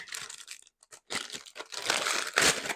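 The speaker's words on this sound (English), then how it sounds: "So we're just going to tear this open." Subscription box packaging being torn open up close, with loud crinkling, ripping and crunching of paper and plastic in quick irregular bursts, with no talking.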